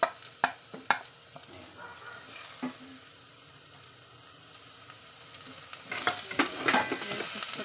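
Garlic and chili fry in a pan for a beef and vegetable soup, giving a steady close sizzle. Scraping stir strokes clatter at the start and again near the end.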